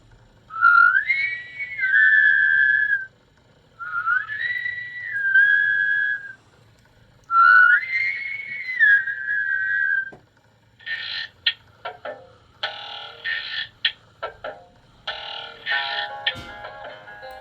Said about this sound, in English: so many people whistling is sure to work